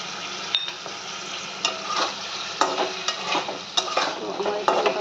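Egg and potato are stirred in a pan with spice paste and water for biryani, giving steady scraping and clattering strokes over a continuous sizzle, close and fairly loud with no talk.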